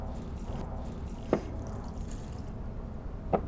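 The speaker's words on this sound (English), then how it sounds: "You see the soil soaking, the water soaking into the soil." Water drips and soaks into the soil of a small planted terrarium, two distinct soft drip impacts spaced about two seconds apart over a steady low background.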